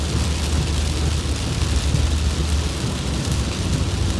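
Heavy rain during a week of flooding on a farm, a loud, continuous broadband downpour with a deep low rumble, steady with no pauses and no voices.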